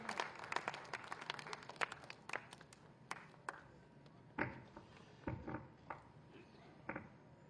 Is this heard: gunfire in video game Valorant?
no